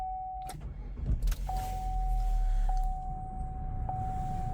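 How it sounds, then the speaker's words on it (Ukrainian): A 2016 Buick Cascada engine cranks and catches, then settles into a low, steady idle close by, with a thin electronic chime beeping a few times. "двигун запускається без проблем."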